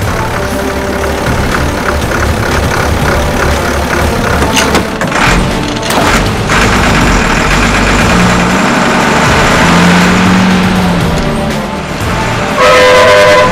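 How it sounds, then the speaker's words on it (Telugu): A bus engine turns over and settles into a loud, close idle, with repeated horn toots sounding over the rumble near the end and no talking. "అదిగో బస్సు స్టార్ట్ అయింది."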